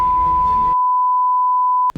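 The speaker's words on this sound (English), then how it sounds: "The alarm goes off again." A steady electronic beep tone rings continuously after a brief burst of noise cuts out, ending with a short click.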